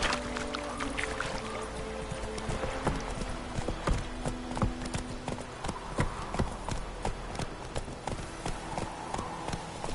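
Roach the horse gallops in The Witcher 3, hooves pounding in a fast, steady rhythm, close and clear over faint ambient game sound.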